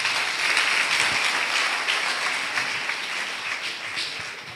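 A church congregation claps and applauds at a Sunday worship service, a dense sustained burst of many hands that slowly fades over a few seconds.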